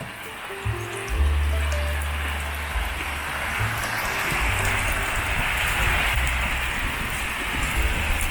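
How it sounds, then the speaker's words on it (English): Dense, heavy rain pours continuously, a broad steady roar with some low-pitched background hum underneath. "Whole heap of rain in the place"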